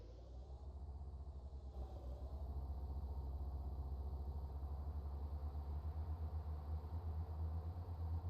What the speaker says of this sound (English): Let me go ahead and buy this, just so I can give you an exhaust comparison.